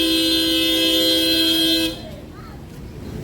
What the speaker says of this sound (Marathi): लोकांक पाशियेंस ना हॉर्न मारतात.